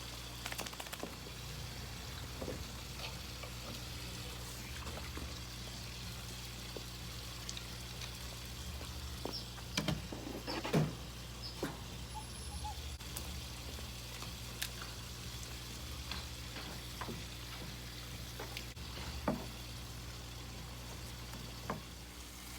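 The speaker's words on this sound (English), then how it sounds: "I am doing a water change on the pond tonight" Water running and splashing during a roughly half-volume change of a 230-gallon backyard pond filtered by two 125-gallon sponge filters, a steady low wash with scattered trickles and drips, fairly faint, with no voices.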